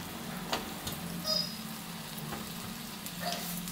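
Eggplant sautés in oil for a traditional kara kuzhambu, a soft steady sizzle with a few faint ticks and clinks from a utensil, fairly quiet and without talk.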